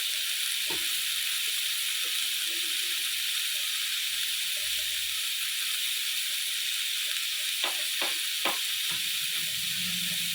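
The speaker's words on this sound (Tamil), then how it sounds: "இதில் தக்காளி போட்டு வதக்கணும்" Tomatoes sautéing in coconut oil for a banana-leaf tawa prawn dish, giving a steady hissing sizzle with a few soft stirring knocks, heard alone.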